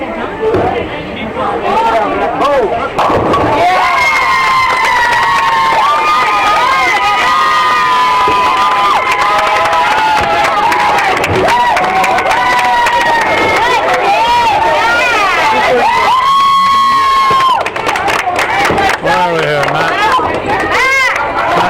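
Spectators at an NCCS Plattsburgh bowling match cheer and clap loudly and continuously, with excited shouting and chatter rising over the crowd noise nearby.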